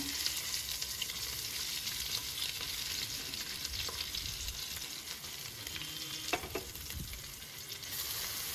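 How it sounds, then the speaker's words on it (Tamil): Thinly sliced onion fries in a pressure cooker for Ambur mutton biryani, a dense steady sizzle with scraping stirs, close and continuous with no talk. "ஒரு பெரிய வெங்காயம் நல்லா தின்னா ஸ்லைஸ் பண்ணி வச்சிருக்கேன். இதை நான் சேர்த்துறேன்."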